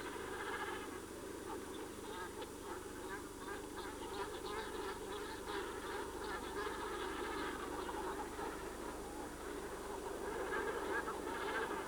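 A flock of cormorants calls at sunrise on an island in Lake Malawi, a dense, continuous chorus of overlapping croaks and honking cries at steady moderate loudness, with no talk.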